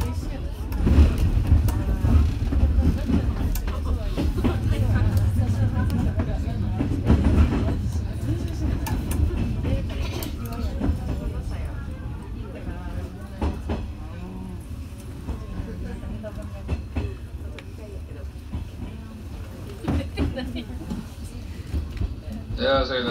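A JR train travels from Nishikujo toward Ajikawaguchi with steady rumbling wheels and rail clatter, a recorded announcement speaking over the running noise.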